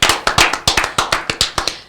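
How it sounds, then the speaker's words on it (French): Clapping at a live hosted show, heard as a small group of sharp, close hand claps in a quick, slightly uneven rhythm, each clap crisp and distinct against a quiet background. "Est-ce qu'on peut applaudir?"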